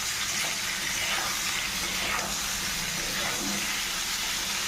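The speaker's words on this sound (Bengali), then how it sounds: "এবার 2-3 মিনিট উলকপিটা ভেজে নেব" Boiled kohlrabi frying in a pan, a steady close sizzling hiss with soft bubbling, continuous and fairly quiet.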